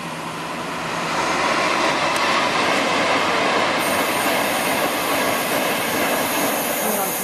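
A train bound for London Euston from Manchester passes at Nuneaton on the West Coast Main Line, a loud, close roar that swells after a second and holds steady, with rail noise and wheel squeal throughout.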